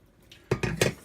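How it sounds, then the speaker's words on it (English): A dry block of instant ramen noodles is dumped into a bowl in a kitchen, making three quick, close clattering knocks against the dish after a quiet moment. "Take these noodles"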